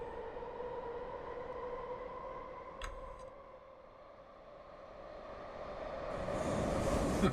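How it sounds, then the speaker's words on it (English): Prague metro train approaching a station: a low steady hum with a whining tone rising in the distance, a brief metallic click, then swelling rumble and hiss as it draws nearer, with no talk. "It sounds like there's a train coming."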